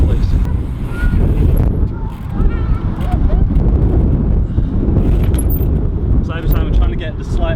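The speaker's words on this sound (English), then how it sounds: "the wind is just trying to blow my bike straight" Strong gusting wind buffets the microphone outdoors during a bike photo outing, a steady broadband roar throughout with someone talking over it.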